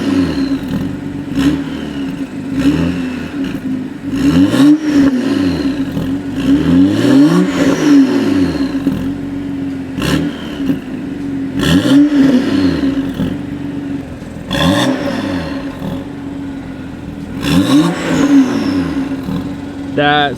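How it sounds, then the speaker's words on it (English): BMW X3 35i with stock exhaust and catless downpipe, repeated hard accelerations with rising engine pitch, a brief drop at each gear shift, and a steady cabin hum in between. People talk over the runs. "So this is stock exhaust other than the catless downpipe."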